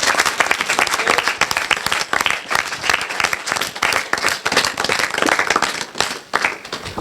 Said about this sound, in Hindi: तालियां बजा के दिखा दीजिए बेटा, थोड़ा सा जबरदस्त